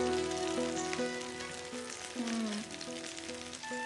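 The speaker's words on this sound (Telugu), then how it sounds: "ఇప్పుడు వేడి మీద ఉంది కాబట్టి దీని మీద మనం బటర్ వేద్దాం" Butter sizzles and fries in a hot pan on a stove, a dense steady crackle throughout, with bright tonal music playing over it.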